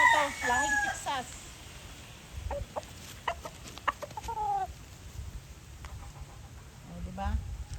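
A Texas-breed rooster crows several times close by alongside clucking, with a person talking intermittently over soft outdoor background noise.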